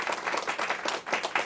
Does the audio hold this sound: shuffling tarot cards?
no